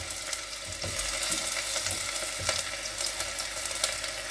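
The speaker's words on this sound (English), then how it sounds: "over a medium heat, stir these around, soften them up" Onions stir and soften in a pan over medium heat, giving a steady soft sizzle with occasional scraping clicks from stirring, close up and with no talking.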